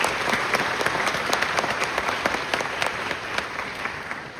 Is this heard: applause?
yes